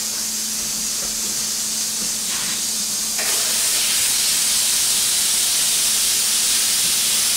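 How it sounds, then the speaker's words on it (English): A pressure cooker holding beef for short rib stew vents steam in a loud, continuous hiss that grows stronger partway through and keeps going unbroken to the end. "we're going to take the beef off the heat and release the pressure from the pressure cooker"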